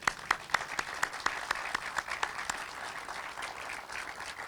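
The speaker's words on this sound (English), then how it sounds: "I think it'd be appropriate to give her a round of applause" An audience at a building open house ceremony claps, producing a steady, moderately loud patter of many hands that fades slightly toward the end.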